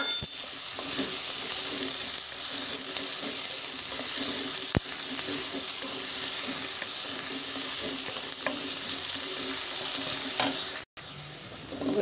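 Thinly sliced onions and curry leaves fry in hot oil for a cabbage dish, a constant loud crackling sizzle with occasional stirring, cut by a short sharp dropout near the end.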